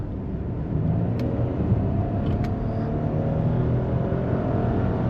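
A 2021 Audi Q8 Premium Plus with a 3.0L V6 and quattro accelerates on a Florida road, heard from inside the cabin as a steady low engine rumble and road roar with no clear rise in pitch.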